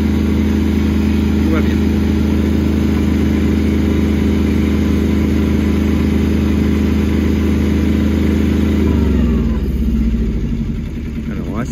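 A Kubota B1121 two-cylinder tractor engine runs with a loud, steady drone, then shifts and drops near the end, while someone talks briefly over it.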